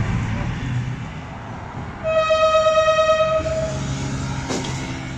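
A passenger train horn blasts once for about a second and a half over the rumble of rail cars departing Balili railway station on the Quetta–Chaman line, then the steady rolling noise continues.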